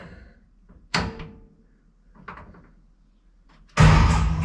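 Doors of a 1955 Chevrolet project car are handled in a quiet garage: a sharp slam, a softer knock, then a loud heavy close followed by a lingering rumble.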